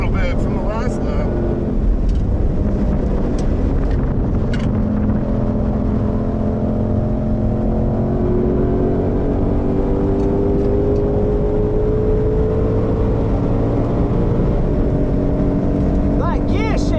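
A Shelby GT500 on street tyres runs flat out at the Nürburgring Nordschleife, its engine note climbing steadily and dropping at a gear change. The roar is close and continuous, and people talk over it.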